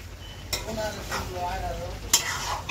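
Chicken fries in a pan while being stirred, with a steady sizzle and a few scraping strokes of a utensil against the pan, heard up close.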